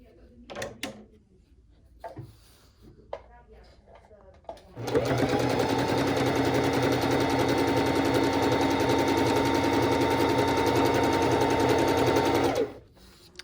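A bernette sewing machine runs in slow mode for about eight seconds, a steady even mechanical hum with rhythmic stitching after a few handling clicks and brief talk, then stops abruptly.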